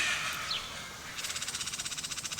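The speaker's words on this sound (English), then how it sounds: "Can you hear the little finches?" Finches sing in a raspberry garden, faint and distant: scattered high chirps, then a quick, even run of repeated trilling notes.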